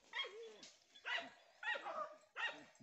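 A farm dog named Jujube barks while a wild boar is flushed from bramble thickets, four sharp, evenly spaced barks with a slight whine, moderately near and standing alone without voices.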